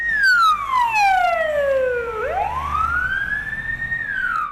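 An ambulance siren sounds as a medical crew heads out on a call, its loud wailing tone sweeping down, then rising and holding high, with no talk over it.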